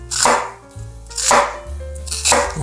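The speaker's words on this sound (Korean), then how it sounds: "자, 모양대로 썰어줍니다" Half an onion is sliced with a knife on a cutting board, three crisp chopping strokes landing at a slow, even pace, close and clear, with no voices.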